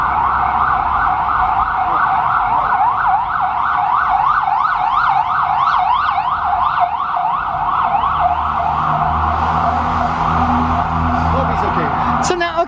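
Police sirens wail on a New York street, a loud, continuous up-and-down warble passing close by over rumbling traffic, with voices in the background.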